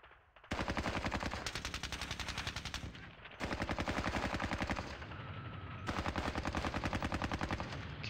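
Machine gun fire in the wargame Squad Battles: loud, rapid clattering bursts in several long strings, separated by brief gaps, with no talking.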